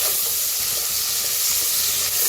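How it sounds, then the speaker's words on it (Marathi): Long-sliced onion dropped into hot oil with toasted whole spices, a dense, loud, continuous sizzle and hiss heard close up, with no voices. "त्याच्यातच टाकूया लांबकळा कांदा कापून घेतलेला 2. त्याला बी चांगलं भाजून घ्यायचंय."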